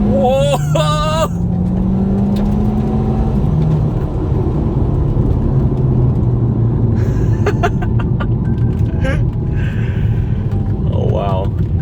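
A Volkswagen Scirocco driven hard gives a loud, continuous engine roar with rising and falling revs and rumble heard from inside the car, while a man exclaims over it at moments.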